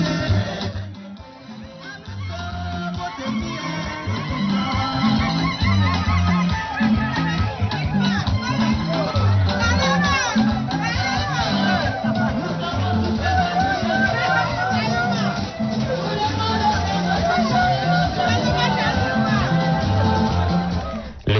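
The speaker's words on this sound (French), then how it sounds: "C'est une foule en liesse qui vient à sa rencontre à la tribune de la dite ville." A jubilant crowd greets a presidential candidate at an outdoor political rally platform in a town, a loud continuous wash of cheering, shouting and chatter with rhythmic chanting or music-like pulses underneath, sustained throughout.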